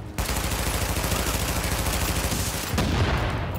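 Sustained automatic gunfire in The Division video game, a loud, rapid, continuous burst of shots lasting a few seconds with a brief break before firing resumes.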